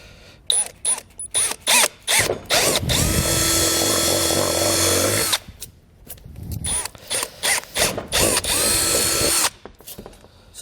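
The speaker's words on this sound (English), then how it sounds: "we're going to take a drill bit here. We're going to drill out all 4 corners" A power drill with a drill bit bores out the corners of base plate cutouts on a 2020 Jeep Gladiator, whirring in several short bursts and one long sustained run, loud and close.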